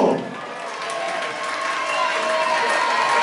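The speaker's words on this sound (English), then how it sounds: "Let's have a big applause for Isaac Gibbs. and Nathan Palma." Crowd applauds and cheers at a boxing event in Rhyl after a draw between Isaac Gibbs and Nathan Palma, a dense, steady wash of clapping that holds loud throughout.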